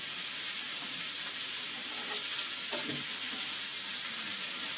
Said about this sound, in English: My steak I can see sizzling away.